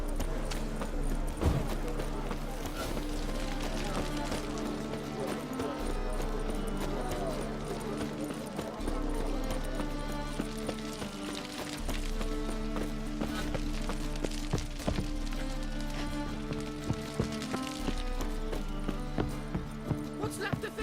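A horse's hooves clip-clop in a steady, galloping rhythm in The Witcher video game. The hoofbeats are prominent and continuous, with a musical score and ambient game sounds underneath.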